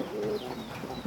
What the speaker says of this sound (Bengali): এটা হচ্ছে লক্ষা কবিতর।